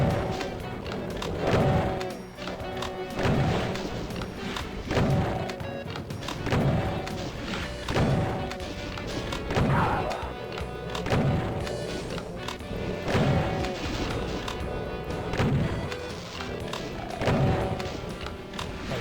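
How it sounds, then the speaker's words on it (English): Rocket explosions in a Doom map, heavy booming blasts repeating at a steady pace roughly every second or two, layered over loud game music and action noise throughout. "And then I can try and feed some rockets from a safe distance."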